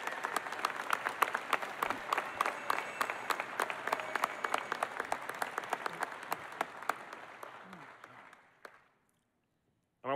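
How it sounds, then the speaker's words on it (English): A convention crowd at the UNITE HERE 2014 Convention gives sustained applause, a dense crackle of many hands with occasional sharp claps that dies away near the end before a brief voice begins. "Let's give them a huge round of applause."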